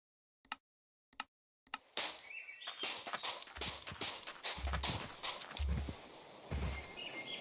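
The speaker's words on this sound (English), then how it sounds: "Why is every footstep like really loud to anyone else?" Footsteps of a Minecraft player crunch in a steady walking rhythm, starting as a few isolated taps and then running on continuously and fairly loud over a busy game soundscape.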